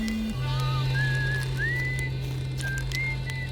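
Characters in the video game Outer Wilds whistle a slow tune, clear sliding whistled notes over a steady low held drone tone, with no talking.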